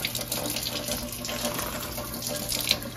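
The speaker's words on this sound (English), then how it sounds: "I'm just rinsing these off before I put them in the vinegar water." A kitchen tap runs steadily into a sink as freshly picked garden greens, tomatoes and a pepper are rinsed under the stream, with continuous close splashing and no talking.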